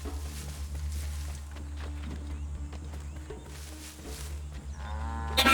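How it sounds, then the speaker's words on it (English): A cow moos in a video game amid low rumbling ambience and faint clopping, with a short harmonic lowing call rising loudly at the very end. "Cow!"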